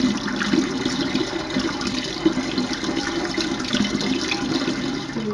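Honey and water mixture for mead poured from one vessel into another, a steady continuous liquid stream splashing and gurgling at close range with no voices.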